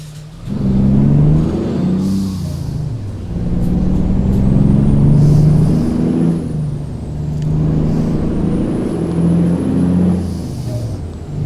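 A heavy truck driving in American Truck Simulator, its low engine drone rising and falling as it accelerates and slows, with hissing air-brake bursts near the start and middle and again around the tenth second.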